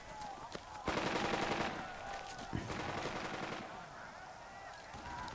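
Rapid machine-gun and rifle fire in a WWII Sicily beach battle in the strategy game Burden of Command, sustained bursts swelling and easing over a steady din of battle noise.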